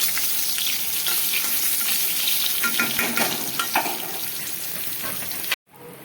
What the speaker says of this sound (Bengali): পটলগুলো প্রথমে আমি ভেজে নেব